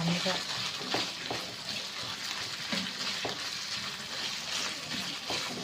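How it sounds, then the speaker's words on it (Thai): Minced pork being stir-fried in a pan with roasted curry paste, a steady close sizzle with intermittent scraping stirs, talk faintly underneath. "เอาหมูลงผัดนะจ๊ะ"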